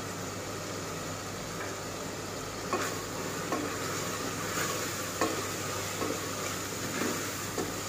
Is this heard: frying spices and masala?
yes